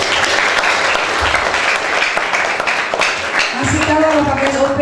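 A school seminar audience on drug prevention claps loudly in a dense, sustained round that fades toward the end as a voice begins speaking over it.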